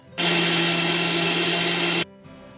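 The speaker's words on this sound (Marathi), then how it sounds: "परत एकदा मिक्सरला फिरवणार" A kitchen mixer blender whirring at high speed for about two seconds as curd is blended into chibud juice, a loud steady motor drone that starts and stops sharply.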